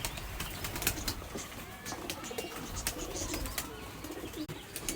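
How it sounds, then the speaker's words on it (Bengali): A pair of imported pigeons shuffle and flap close by, with soft coos and wingbeats over constant rustling and scattered chirps; a voice speaks faintly in the background. "ভিউয়ার্স দেখুন, এই জোড়া কবুতর আমার মানে ইম্পোর্ট করাই কবুতর"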